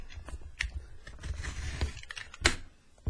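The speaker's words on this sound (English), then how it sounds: "So let us go ahead and crack this open. Got my utility knife." Utility knife slicing through tape and cardboard to open a Nexus 6 phone box, a close, continuous scratchy scraping with a few sharper cuts and rustles, no talk.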